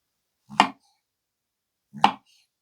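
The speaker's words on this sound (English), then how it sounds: "let's slice up this apple. What about some mushrooms?" A knife slicing through an apple and mushrooms on a cutting board, heard as two separate, close, crisp chops with a pause between them, no talk.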